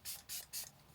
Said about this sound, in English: So I'm using the Dalbar spray.